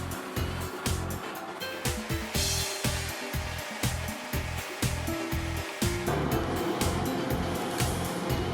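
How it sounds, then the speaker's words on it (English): A ring rolling machine runs on a Japanese factory floor, giving a dense mechanical roar with rapid rhythmic thumping pulses that settle into a steadier loud hiss partway through. "It's the first ring rolling machine in Japan."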